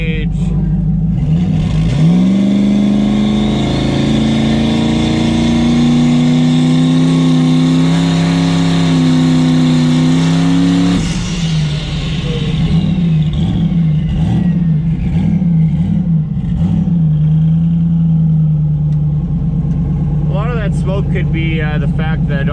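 A turbocharged 5.3 LS V8 in a Mustang roars loudly in first gear against the trans brake, the engine note climbing and holding high before dropping into a lumpy, choppy idle.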